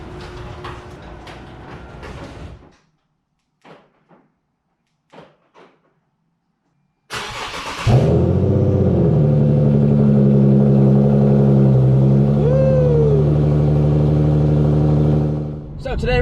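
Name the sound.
Infiniti Q50 car engine starting and driving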